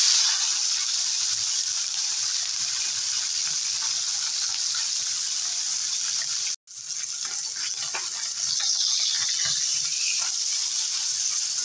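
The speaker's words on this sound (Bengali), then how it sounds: "তেল গরম হয়ে গেছে, মাছ ভেজে নেব।" Salted, turmeric-coated bele fish fries in hot oil with a continuous bright, hissing sizzle, briefly broken by a short dropout before the crackle resumes at the same strength.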